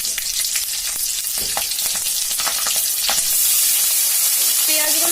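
Green chillies sizzling in hot mustard oil with popping yellow mustard seeds, a bright continuous hiss with sharp crackles and spatula scrapes, swelling louder near the end with a brief faint voice.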